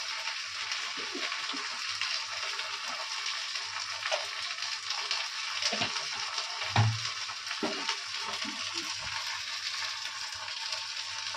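Whole cumin and spices sautéing in a pan, a steady close sizzle with occasional stirring knocks and scrapes.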